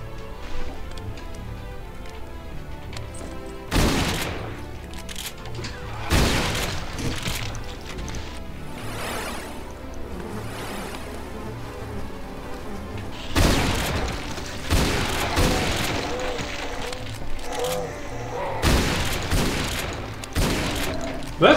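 Gunfire in the shooter game Doom Sigil, played in GZDoom, bursts out in several loud, sharp volleys and booms spread across the stretch over a droning game soundtrack, with a player reacting between shots.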